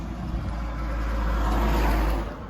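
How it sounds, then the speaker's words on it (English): Steady road traffic noise with a deep rumble of passing vehicles, swelling slightly as one goes by, no voices. "Sorry for the road noise."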